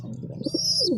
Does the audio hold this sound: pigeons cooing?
yes